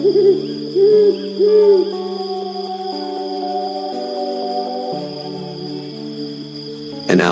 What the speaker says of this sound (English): An owl skims the grass.